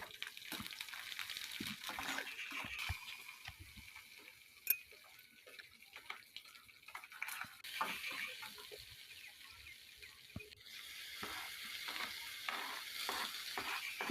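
Shallots, garlic and bottle gourd sauté in a pan, giving a quiet crackling sizzle broken by frequent light stirring clicks and scrapes of a spoon, with occasional sharper knocks, up close.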